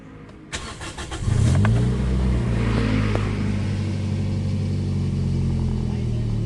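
A Toyota Vios engine, recently fixed after overheating and rough running, cranks and catches at about 1.3 seconds, then settles into a steady, close idle hum.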